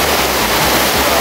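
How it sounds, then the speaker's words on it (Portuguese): Constant close rush of a small forest waterfall, splashing water filling the whole moment at even loudness, no voices audible. "Curtindo, conhecendo a cachoeira."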